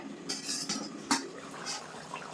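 A metal lid lifted off a pot of soybean potato curry gives a few light clinks and scrapes close by, quick and fairly quiet.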